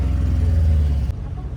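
An auto rickshaw crowded with passengers rumbling along with its engine droning loudly and steadily at close range, a brief shift in tone near the end.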